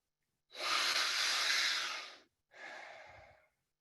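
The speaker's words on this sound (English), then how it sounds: "As a group, we're going to go 5 more good breaths." During a guided breathing practice, one deep, long, airy breath lasting nearly two seconds is followed by a shorter second breath, both close and clear in a quiet room.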